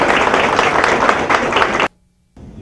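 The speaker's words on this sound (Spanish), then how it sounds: "Un aplauso para estas chicas que aprovechando acá." Applause from a studio audience at a Spanish-language variety show ceremony, dense and steady for about two seconds before cutting off abruptly into silence, then faint noise returns.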